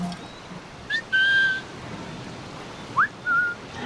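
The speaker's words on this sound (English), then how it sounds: "you can also whistle at enemies, but there's a radius within which the whistle is useful" A character's whistle aimed at enemies in Assassin's Creed IV: Black Flag, two short two-note whistles, each a quick upward slide followed by a held steady tone, clear and close over a low ambient background.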